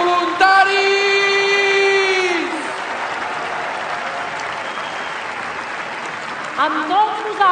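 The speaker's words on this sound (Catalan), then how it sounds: "Un fort aplaudiment per ells." A crowd at a large outdoor rally for Catalonia's national day applauds loudly and continuously. A voice speaks over the clapping at the start and again near the end.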